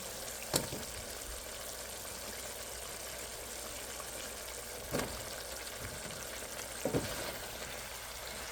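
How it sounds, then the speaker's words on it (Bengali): Rohu fish heads fry in spiced oil in a pan, giving a faint, steady sizzle with a few sharp clicks and knocks scattered through it. "এখন আমি মাছগুলা দিয়ে দেবো মাথাগুলা"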